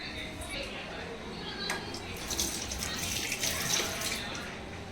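Prawns being washed by hand in water in a home kitchen, a steady splashing and sloshing with a few brighter swishes midway.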